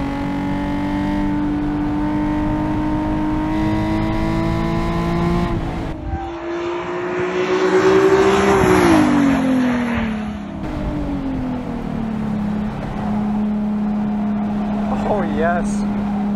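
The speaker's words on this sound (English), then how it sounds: "this car absolutely rips" A mildly modified Nissan 370Z sports car runs on a race track, its engine droning steadily from inside the cabin before revving up hard, peaking, then dropping back to a lower steady hum.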